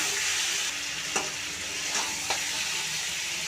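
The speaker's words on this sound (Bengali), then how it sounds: "এবার আমি ভেজে রাখা আলুটা দিয়ে দেবো। দিয়ে ভালো করে কষিয়ে নেব।" Mutton curry with fried potatoes sizzling and frying steadily in a pan while being stirred, a continuous bright hiss broken by a few soft scraping stirs, close and alone.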